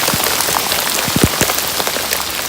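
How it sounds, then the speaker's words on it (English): Hailstones pelt the ground and gear in a mountain storm on the Appalachian Trail in the Roan Highlands. The storm makes a dense, loud hiss of impacts with sharper individual cracks scattered throughout, and no voices. "It's hailing."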